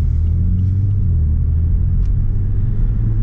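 Low, muffled engine rumble from an Alpina B4 driving smoothly in EcoPro mode, a steady deep drone heard from inside the cabin with no talk over it.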